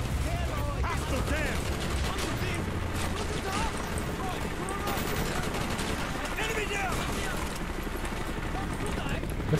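Dense gunfire and battlefield clatter fill a Call of Duty: Black Ops firefight, with sustained bursts and loud combat noise running throughout, while voices talk over the action.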